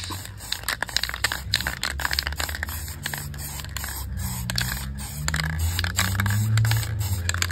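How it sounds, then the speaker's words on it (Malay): A spray can lays a second thin coat of paint onto a car sport rim being finished in dual-tone gold and black, with rapid, close hissing bursts and crackly spatter repeating throughout. "kita akan spray untuk second layers"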